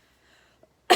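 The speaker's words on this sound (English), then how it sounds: "And yes, I have this cough." A single short cough bursts out near the end after near silence, fairly close and loud, from a person recovering from surgery.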